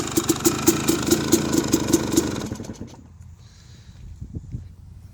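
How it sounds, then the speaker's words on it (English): A 2001 Yamaha YZ250 two-stroke dirt bike runs close by with a rapid, popping idle, then is shut off and sputters down to near quiet, with a few faint knocks afterward. "2001 Yamaha YZ250 two-stroke"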